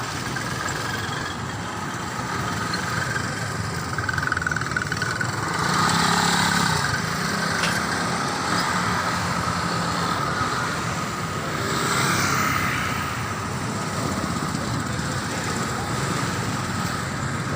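Traffic on a highway in the Philippines, a continuous broadband roar of passing vehicles and engines, swelling as cars go by around the middle and later, with no talk.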